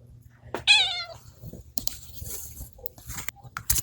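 Female cat in heat gives one loud, drawn-out meow during a veterinary intake exam, followed by quieter rustling and handling noises close by.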